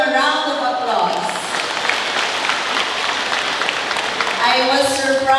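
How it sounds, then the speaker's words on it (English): Audience applause at a Balikatan 24 gathering with U.S. Navy, U.S. Army and Philippine Marines, steady and fairly loud for several seconds, with voices and tonal sounds rising briefly at the start and end. "Let's give them a round of applause."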